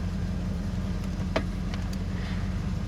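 A Holden VN SS engine idles with a steady low rumble, joined by a few faint clicks and ticks, close by and unbroken.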